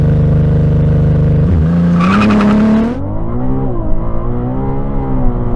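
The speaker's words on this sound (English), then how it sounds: "So I'm going to launch it again." Ferrari sports car launching hard from a standstill, with a loud, close engine roar climbing through the revs, a brief high-pitched tire chirp, then a sustained rising drone as it pulls away.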